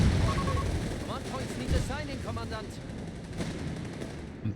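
Rapid gunfire from the Company of Heroes 3 video game, a dense crackle of small-arms and machine-gun bursts with explosions, continuous and loud under a commentator's talk.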